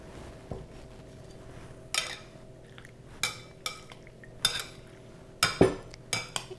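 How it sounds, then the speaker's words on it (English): Dressing is tossed into sliced cucumbers for a Japanese sunomono salad, with utensils knocking and clinking against a bowl in about eight separate strokes, closer and louder toward the end. "So now I'm going to add the dressing to our cucumbers."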